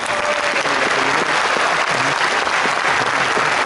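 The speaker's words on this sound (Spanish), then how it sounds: "Un aplauso a todos." A crowd applauds at an engineering graduation ceremony, producing a thick, even wash of clapping that holds steady and loud throughout, with faint voices mixed underneath.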